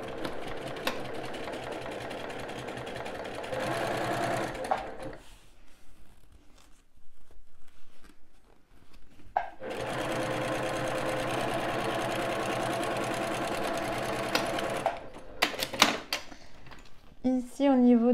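Domestic sewing machine running close by as it stitches a seam about 1 cm in from the edge of a fabric pouch, with two long steady whirring runs separated by a quiet pause, then short bursts and handling noises at the end.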